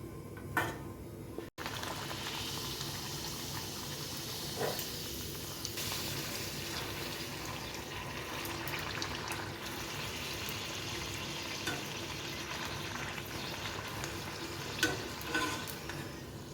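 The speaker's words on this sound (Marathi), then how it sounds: "अशाच आपण सर्व पुरी तळून घेऊया." Puris deep frying in hot oil give a steady, dense sizzle with gentle bubbling that runs evenly throughout, with no one talking.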